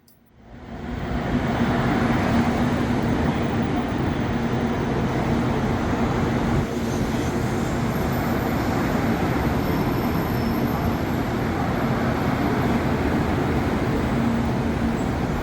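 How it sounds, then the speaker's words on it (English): A Shinkansen bullet train at Kumamoto Station, a steady loud broadband rumble that rises in the first second and holds for the rest of the stretch, with no voices. "Shinkansen, Kumamoto Station"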